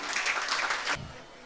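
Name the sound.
audience applause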